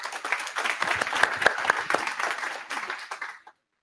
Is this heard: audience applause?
yes